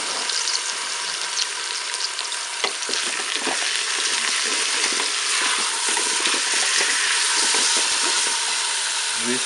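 Onions frying with a pork roast browning in a Cookeo multicooker, a loud, dense, continuous sizzle with crackling and occasional stirring scrapes, close up and steady throughout.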